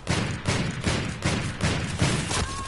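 A gun firing semi-automatically in the video game Call of Duty: Infinite Warfare, six or seven evenly spaced loud shots in quick succession with no voices.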